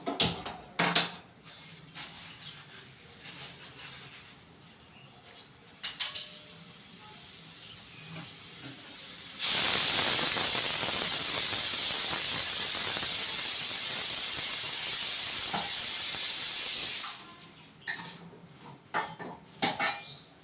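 Leafy greens drop into a hot wok already holding garlic and green chili, bursting into a loud, sustained hiss of sizzling for several seconds, bracketed by clinking utensils and pan clatter before and after.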